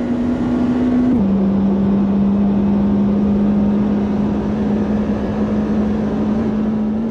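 Supercar in Automobilista 2 flat out at top speed down the Dottinger Straight, its engine holding a loud, steady high drone that drops slightly after an early gear change, then holds unbroken; no talking.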